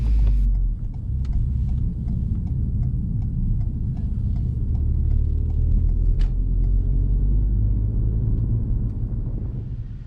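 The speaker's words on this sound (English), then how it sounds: "we balance the accelerator and clutch bite to keep the car moving slowly forward" A car inches forward slowly under clutch control in a town centre, its engine a low steady rumble throughout, with faint ticking and no speech.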